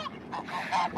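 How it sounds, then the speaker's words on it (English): Geese honk on a farm, a quick series of nasal honks from several birds close by, repeating rapidly with no talk over them. "Here come the geese."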